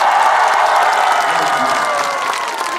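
An audience at a singer's album showcase breaks into applause, a broad wash of many clapping hands with some crowd noise, sustained and fairly loud throughout.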